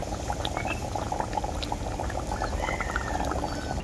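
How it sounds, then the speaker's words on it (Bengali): Fish curry gravy with fried fish pieces bubbling hard in a pan, a dense, continuous rolling boil with fine popping, close and fairly loud throughout. "মাছ দেওয়ার পরে ঝোলটাকে আমি খুব ভালো করে ফুটিয়ে নিয়েছি"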